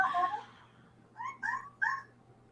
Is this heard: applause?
no